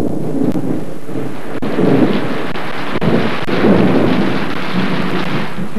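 Steady heavy rain pours throughout an Italian film soundtrack while low thunder rumbles and swells in several waves, close and loud, with no voices over it.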